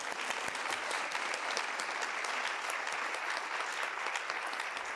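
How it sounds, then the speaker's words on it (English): A round of applause after a ballet rehearsal: steady, dense clapping from a group, even and continuous throughout without any talking. "that's a round of applause for you"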